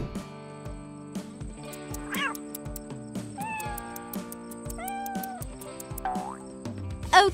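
A cat meows several times over cartoonish music in a craft setting, with rising, pitched calls spread through the clip, fairly close and clear but partly blended with the melodic background.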